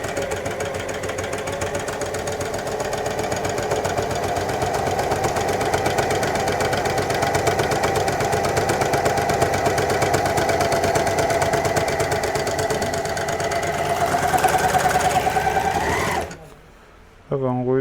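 A Janome ArtDecor 724D sewing machine or MyLock 205D overlocker runs steadily and loudly for about sixteen seconds with a continuous mechanical whir, then stops abruptly, leaving brief quiet with faint sounds after.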